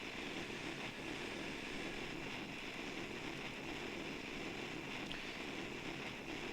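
Rocket first-stage engine burning during a climb through the atmosphere in Kerbal Space Program, a steady dense roaring rush that holds at constant loudness throughout with no voices.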